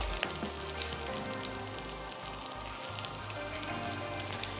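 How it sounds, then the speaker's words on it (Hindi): Koftas frying lightly in hot oil to form a crisp outer layer give a steady, dense crackling sizzle, close up and constant, with no voices. "कोफ्तों को आपने हल्का सा फ्राई करना है, एक क्रिस्पी सी लेयर देनी है"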